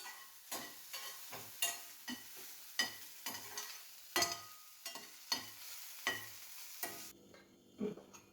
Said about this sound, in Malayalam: നമുക്ക് കടുക് വറക്കാം